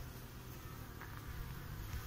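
Honeybees buzz inside an overwintered nucleus hive, a low steady hum close by and faint, with no voices.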